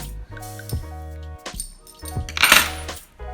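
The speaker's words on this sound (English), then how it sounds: "Just take the keys off and it will go back to its position." Keys are taken off a hook and clink together in a few sharp metallic bursts, close and crisp, with a louder jangle near the end and no voices.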